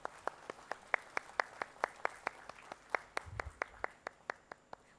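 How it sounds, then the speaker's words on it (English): Sparse, rhythmic clapping from a small audience at a textile launch event in Bhubaneswar, Odisha, with roughly twenty separate evenly spaced claps over a few seconds and a brief low thump in the middle. "a big round of applause"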